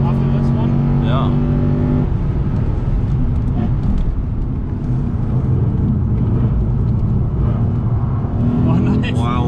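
Lexus RC F Track Edition on the Nürburgring Grand Prix circuit: a steady, loud engine drone with shifting pitch from inside the car, people talking over it throughout.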